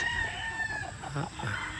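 A rooster crows and chickens cluck close by, layered calls running continuously with no pauses.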